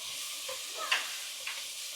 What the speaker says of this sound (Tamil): இஞ்சி பூண்டு பேஸ்ட் நல்லா வதங்கிடுச்சு